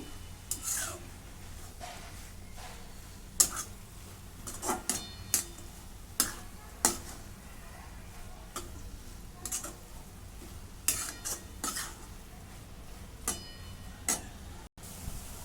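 Dried shrimp (jawla) masala being stirred and mixed in a pan, with a spoon clinking and scraping against metal in scattered, irregular taps, fairly close and alone without talk.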